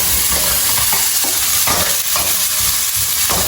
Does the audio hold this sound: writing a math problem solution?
no